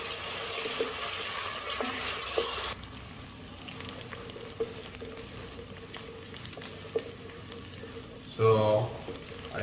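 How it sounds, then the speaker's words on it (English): Silver trevally fish frying in a pan: a steady, dense sizzle, loud for the first few seconds and then softer and quieter, with a few light clicks and a short clatter near the end. "I will fry it like for"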